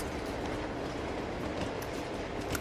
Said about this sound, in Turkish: Bak tren, bak tren ya, tren.